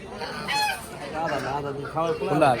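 Several ducks honk and quack in short overlapping calls close by at a village market in Dohar, Dhaka, Bangladesh, with a faint murmur of voices in the background.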